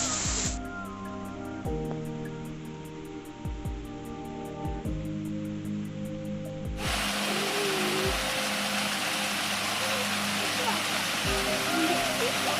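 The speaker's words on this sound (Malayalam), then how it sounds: "അപ്പോൾ ഇത് അരുവി വരുന്ന വഴിയാണ്." A stream runs beside a bridge at Tall Trees Resort in Munnar, its steady broadband rush continuous throughout and swelling noticeably louder about halfway through.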